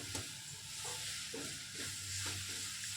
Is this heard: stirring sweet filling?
yes